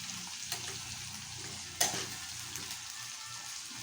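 Bagoong alamang shrimp paste frying in a little oil, with a soft continuous sizzle and the occasional scrape of a stirring spoon, including one sharper clink midway.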